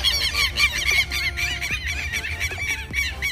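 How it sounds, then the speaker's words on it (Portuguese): Birds attacking and chasing a dog give loud, close, repeated honking calls in quick overlapping bursts throughout the short stretch. "Ó, os passarinhos vão atacar o cachorro"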